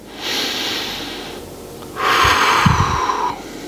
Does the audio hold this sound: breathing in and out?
yes